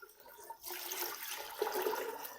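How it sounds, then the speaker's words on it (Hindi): Water is poured from a jug into a cooking pot holding meat, salt and garlic-ginger paste for a Charsadda rice dish, a soft rushing splash that starts abruptly after a brief silence and continues steadily, with no talk. "अब इसमें मैं पानी शामिल कर दूंगा।"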